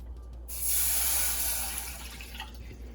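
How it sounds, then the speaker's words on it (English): A cup of water is poured into a pot on a stove over medium heat, a bright rushing splash starting abruptly and tapering over a couple of seconds beneath a low steady hum, close and without talk. "I'm gonna add the 1 cup of water to the pot."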